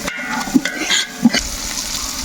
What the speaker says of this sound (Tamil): பார்த்தீங்கன்னா உள்ளி நல்லா வதங்கிடுச்சு.